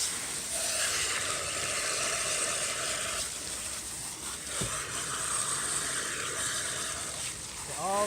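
Running water pours steadily over freshly processed chickens that have been sitting on ice in a cooler, giving a continuous close splashing hiss.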